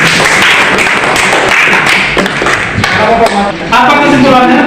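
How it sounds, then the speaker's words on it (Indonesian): Students in a classroom clap their hands in a dense, continuous patter of overlapping claps lasting several seconds, fairly close and loud, with murmuring voices mixed underneath. "Oke, tepuk tangan."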